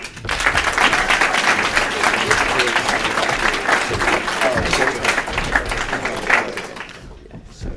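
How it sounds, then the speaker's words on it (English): Comedy club audience at a Bangor student comedy night clapping for two volunteers called to the stage, dense sustained applause filling the room, loud and continuous before thinning out at the end. "Let's give the Doug and Josh a clap"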